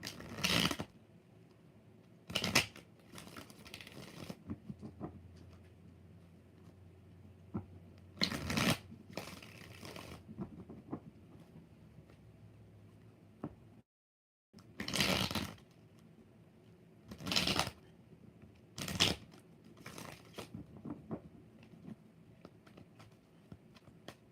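Tarot cards shuffled in a series of brisk riffling bursts, with short quiet pauses between them, close up and without speech.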